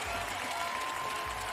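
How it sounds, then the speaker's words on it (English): Spectators at the 2019 UCI BMX Flatland World Cup men's final in Montpellier clapping and cheering for a rider, a dense, continuous wash of applause that stays loud for the whole brief moment. "Alex Jumelon from Montpellier, France, loving the crowd,"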